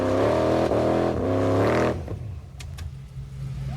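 Car engine revving hard while flooded with too much petrol, a loud sustained roar that climbs in pitch and then cuts out abruptly, leaving rough low idling rumble and brief mechanical squeaks.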